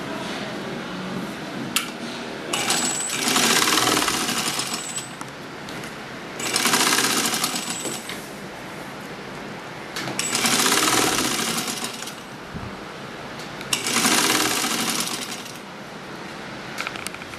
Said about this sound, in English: I'm going to sew that all the way down.